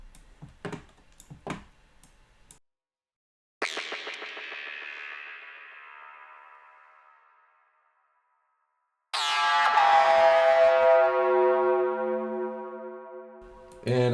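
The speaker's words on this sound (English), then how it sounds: "And I'm going to use reverb here." A few sharp clicks give way to two ringing, bell-like tones, each swelling and then trailing off in a long, echoing reverb tail, part of a drum and bass transition build-up.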